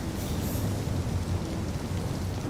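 Steady rain hisses and patters in a PS5 video game, a dense constant wash with low rumbling underneath.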